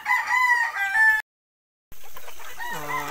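Young roosters (stags) crowing loudly and close by at a backyard poultry farm: two full crows separated by a brief silent gap.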